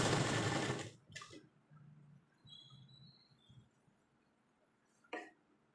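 A sewing machine stitches a churidar pant, running in a loud whirring burst at first, then short softer runs and clicks, close by with no talking.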